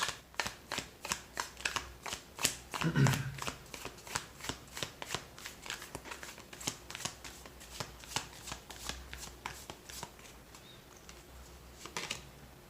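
A deck of tarot cards is shuffled over and over close by, a quiet rhythmic run of crisp riffling flicks that continues throughout with no talk.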